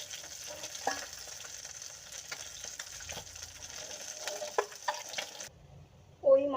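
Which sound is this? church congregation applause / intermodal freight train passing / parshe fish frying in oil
parshe fish frying in oil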